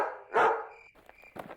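A dog in a Hindi animated comic lets out one loud, close bark, followed by a few fainter, shorter yips and a soft second bark.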